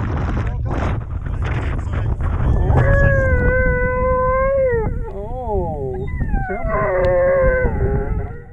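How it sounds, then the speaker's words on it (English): Long, wavering howls from a dog stuck on a ledge high on Kinder Scout, rising and bending in pitch over a rough background of wind or people talking. "A dog trapped on a ledge high up on Kinder Scout triggers an all-night rescue"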